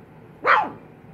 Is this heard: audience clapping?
no